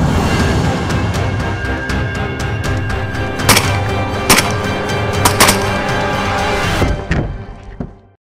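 Rapid gunfire during a nighttime hog eradication shoot in South Texas, with a dense, continuous barrage and several sharper, louder cracks standing out before the shooting cuts off abruptly near the end.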